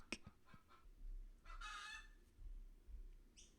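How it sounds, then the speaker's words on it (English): A hen cackles loudly in a few bursts with short pauses between them, close by, alongside a low rumbling background, as she lays an egg. "one of my chickens is going off"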